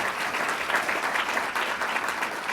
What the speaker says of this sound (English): Could we just give them a round of applause, please?